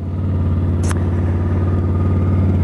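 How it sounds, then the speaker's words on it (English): A 2018 Honda Africa Twin Sport, mapped and fitted with an Akrapovic exhaust, idles with a deep, steady low thrum close by. A brief sharp click cuts in once near the start. "That's the lovely Akrapovic exhaust thrumming away"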